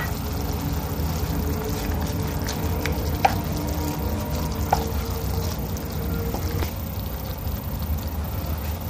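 Cabbage, potato and capsicum sabzi is stirred in a pan with black pepper, a steady broadband frying hiss running throughout with a few sharp spoon taps against the metal.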